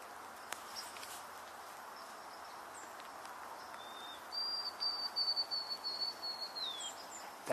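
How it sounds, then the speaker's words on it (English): A white-throated sparrow sings clear, sustained whistled notes in a short phrase out on a trail in October, moderately distant over a steady outdoor background hiss, with no talking. "That was a white-throated sparrow singing."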